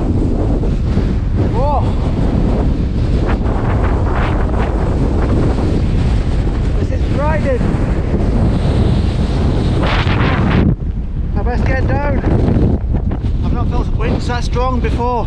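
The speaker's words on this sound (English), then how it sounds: "So windy!" Strong gusts buffet the microphone on an exposed hilltop at Cox Tor on Dartmoor, a loud constant roar with rumbling low thumps throughout, with brief voice-like sounds mixed into the blast.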